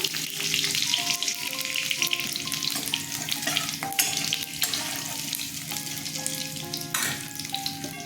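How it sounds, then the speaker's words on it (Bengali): Green chillies are tempered in hot oil for a Bengali vegetarian curry and sizzle loudly and steadily, with crackling spatter and a little stirring close by. "কাঁচা লঙ্কা ফোড়ন দিয়ে দিচ্ছি দিলে ফোড়ন দিলাম"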